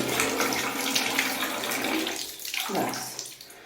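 Tap water running steadily into a bucket, a close, continuous hiss and splash that shifts in pitch as the bucket fills, then cuts off near the end.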